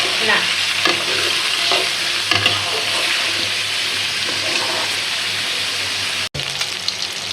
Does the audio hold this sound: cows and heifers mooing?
no